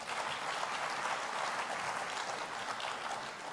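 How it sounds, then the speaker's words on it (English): A large audience at a Lagos State event gives a sustained round of applause, dense and even clapping that holds steady at moderate loudness throughout. "let's give him another round of applause"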